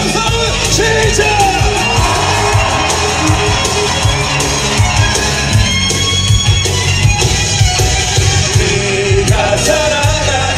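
Crowd at a citizens' rally in Daejeon yelling and cheering, a loud, dense mass of voices that is sustained and slightly distorted, with shouts rising above a constant roar.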